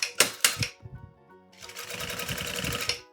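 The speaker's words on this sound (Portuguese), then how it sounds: "Vamos pegar aqui, ó, meio com meio e vamos, ó, costurar. Meio com meio. Vou costurar bem na beiradinha" A sewing machine stitches a children's car organizer, starting with a few short bursts, pausing, then running in a fast, steady mechanical rattle up close.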